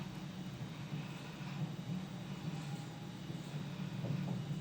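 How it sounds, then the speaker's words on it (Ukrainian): Steady low rumble of an old tram rolling along, with continuous rattling and track noise, fairly loud and constant throughout. "ми потрапили на старий трамвай"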